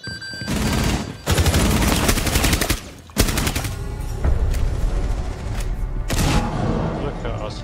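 Rapid automatic gunfire from a video game rattles in loud, close bursts separated by brief gaps, with a voice speaking over the shooting.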